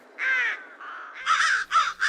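A raven caws in a series of harsh, throaty croaks, first two drawn-out calls and then a quicker pair of rasping notes, loud and close with nothing else around.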